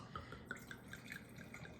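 Wine is poured into a glass to measure a four-ounce serving, heard as a quiet close trickle of small liquid gurgles and drips in a soft, irregular rhythm.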